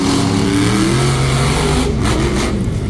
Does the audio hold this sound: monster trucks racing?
yes